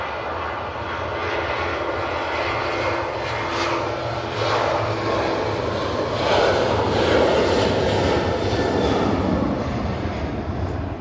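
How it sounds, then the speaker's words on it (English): A Boeing 737-800 bound for Barcelona roars down a stormy Manchester Airport runway on its takeoff roll, the jet engine noise building to a loud, broad rumble heard from a distance, with no talking. "737-800 now on the roll. Off to Barcelona."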